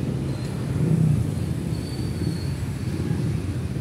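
Steady street traffic outside a school at dismissal time, a continuous loud rumble of engines and tires passing nearby, with no voices over it.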